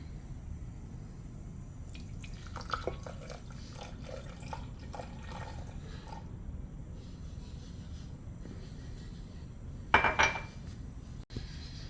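Balsamic vinegar pours and drips into a bowl for a few seconds, with light clinks of dishes and a brief splashy burst near the end.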